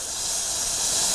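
Superheated car radiator venting steam in a loud, steady, close hiss that swells slightly over a second, with nothing else audible.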